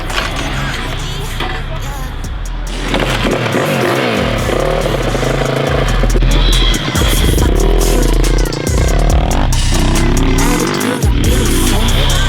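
A motorcycle struggling to start, close by and loud, with repeated clattering cranking and sputtering bursts that catch and fade in an uneven rhythm, heard with no talking over it.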